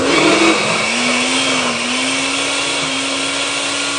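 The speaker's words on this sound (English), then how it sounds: "So I'm just going to blend this a few more times." A blender set to smoothie mode whirs through avocado pesto sauce, a loud continuous motor whine that dips slightly in pitch after the first half second and then holds steady.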